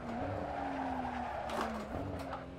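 A Nissan Skyline R34 V-Spec in the Assetto Corsa driving game on the Nordschleife, its engine holding a steady tone while the tires squeal, with a brief shift in pitch toward the end.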